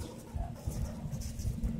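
A bird coos softly at an animal care center, a faint low cooing close by under background rustle and patter.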